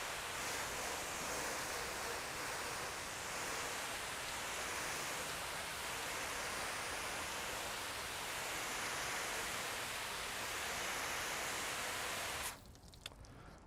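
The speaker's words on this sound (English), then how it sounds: "So let's put some water on it and see how we're doing." Water sprayed onto a car panel treated with graphene ceramic coating makes a steady, loud hiss for about twelve seconds, then cuts off abruptly with a few faint clicks.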